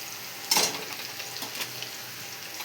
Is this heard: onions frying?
yes